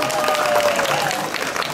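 Audience at a Taichung charity concert cheering and screaming in a loud, continuous wash of crowd noise with applause, steady throughout the short stretch.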